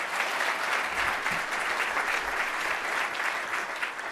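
Crowd applause at a business luncheon for entrepreneurs, an even wash of many people clapping at moderate level with no break, steady throughout.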